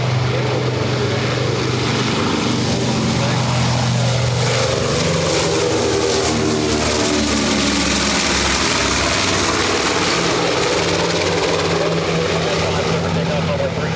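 A propeller-driven warbird, a former Coast Guard submarine-patrol airplane and the last of its kind, drones loudly overhead at AirVenture, its engine pitch shifting as it passes, with an announcer speaking over it.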